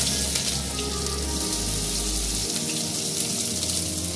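Onions dropped into hot mustard oil, frying for an egg omelette curry with tomato and green chillies; a dense, steady hiss of sizzling runs close and loud for the whole stretch, with no voices.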